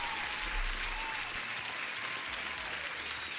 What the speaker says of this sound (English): applause to everyone